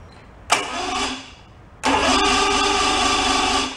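An old outboard motor on a bass boat that sat unused for ten years, started without choke: a sharp pull-start cough, brief sputter, then the engine catches and runs steadily, loud and close, with no talk.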